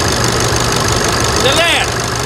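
A Chevrolet S10 diesel engine with a leaking water pump runs with a steady, close, knocking rumble through the short stretch, with a brief voice speaking over it.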